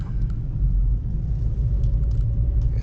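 Snow plow machine engine idling while warming up on a cold night, a deep, steady, close rumble with a constant low drone and a few faint clicks above it, no talk.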